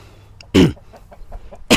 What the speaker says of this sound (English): here's our chickens and Mr. Loudmouth right there.